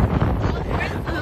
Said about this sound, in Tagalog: Sobrang lakas ang hangin, tignan nyo.